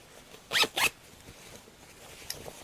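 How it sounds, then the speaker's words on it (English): Two quick pulls on a basted-in zipper on a cosplay costume, a short rasp followed by another, close and fairly loud, then near quiet with a faint click. "what I'm going to do at this point is zip it up"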